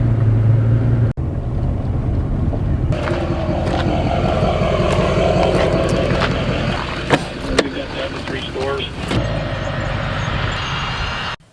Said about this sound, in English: Hop in BJ's truck to move it for him.